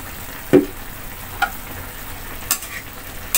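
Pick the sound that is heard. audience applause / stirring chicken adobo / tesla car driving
stirring chicken adobo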